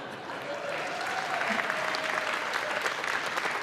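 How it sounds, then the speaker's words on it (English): Audience applause at an awards gala breaks out and quickly builds into dense, even clapping from a large crowd, sustained across the whole stretch. "They want to applaud you right away, Fern."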